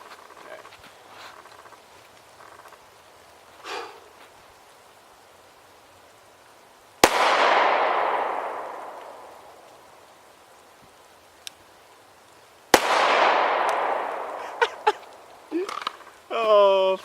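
Two sharp pistol cracks from a Glock 17 with a Brownells slide, Trijicon RMR sight and Surefire X300 light, spaced several seconds apart, each ringing off in a long echoing tail amid quieter outdoor noises.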